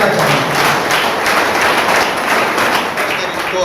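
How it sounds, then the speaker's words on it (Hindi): Sustained applause from an audience at a police public-dialogue event for citizens in Jhabua, a dense, steady wash of clapping that runs evenly and loudly from start to finish. "आपकी तालियां सतत बजना चाहिए।"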